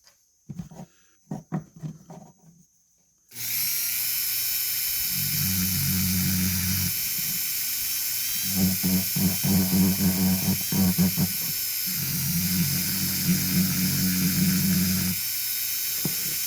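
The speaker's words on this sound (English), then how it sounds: "hopefully this little sanding will be a short one" A rotary tool fitted with a burr bit sands a Celtic trinity hearts piece, a steady high whine running loud and close after a quiet start, with the pitch dipping and rising as the bit bears into the work in repeated passes.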